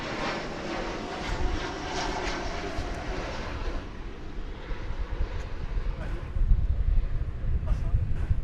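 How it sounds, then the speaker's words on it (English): An American Airlines jet arriving at DFW Airport from Reno, Nevada gives a steady, broad engine roar that swells louder toward the end, with someone talking over it. "From Reno, Nevada cometh this American Airlines aircraft."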